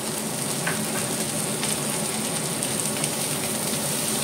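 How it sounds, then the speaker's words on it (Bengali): Cauliflower, carrot and onion fry together for veg pulao, giving a dense, continuous close sizzle and crackle that fills the whole moment with no one speaking. "সবজির সাথে সাথে পেঁয়াজটাও হয়ে যাবে ভাজা।"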